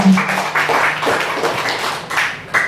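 Church congregation applauding at an offline prayer gathering, a brief patter of hand claps close by, fairly loud and uneven, fading quickly.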